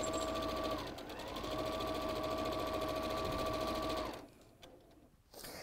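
A sewing machine stitches quilt appliqué in a steady, loud mechanical whir, pausing briefly once, then stopping near the end to leave quieter handling noises.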